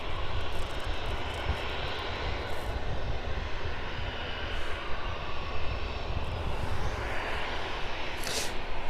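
A Hawker Beechcraft business jet taxiing at East Midlands airport, with a steady, loud engine roar holding evenly throughout and no voices.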